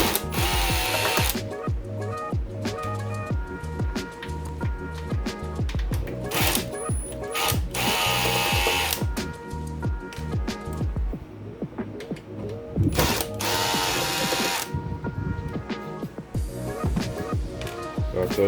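A powered screwdriver backs screws out of a Pandora's Box arcade control box in quick whirring bursts, with ratcheting clicks and handling noises between them, up close.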